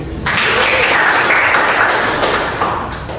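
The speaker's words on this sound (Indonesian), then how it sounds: "Beri tepuk tangan untuk teman-teman" A burst of applause from a classroom group, loud and close, many hands clapping steadily before tapering off slightly at the end.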